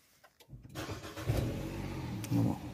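A Renault Fluence car engine cranks and catches after a brief quiet moment, then settles into a steady close idle with slight revving swells.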